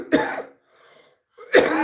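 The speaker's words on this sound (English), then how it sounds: "That's a good chest clearing cough." Two harsh, chesty coughs, each a burst of rough noise, separated by a short quiet pause; close and fairly loud with no talking.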